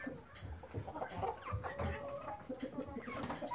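Chickens cluck on a farm with two newly hatched chicks and a Brahma rooster nearby, giving steady overlapping clucks and soft peeps at close range with no speech.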